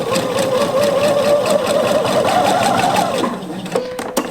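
A sewing machine runs steadily while stitching lining, a loud close mechanical whir that slows and stops near the end, followed by a few small clicks.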